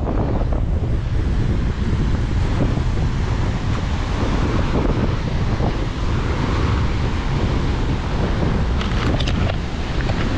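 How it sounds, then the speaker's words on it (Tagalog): Strong sea waves crash and churn during a typhoon on a debris- and log-strewn shore while heavy wind buffets the microphone, a loud, unbroken roar that fills the whole stretch without speech. "Ang lakas ng alon."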